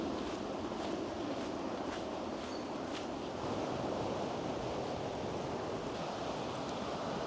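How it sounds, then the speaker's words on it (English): Ocean surf at Cathedral Cove, heard from a coastal walking trail as a continuous, fairly faint broadband wash of waves, with some wind noise on the microphone. "I can hear the ocean. It sounds amazing."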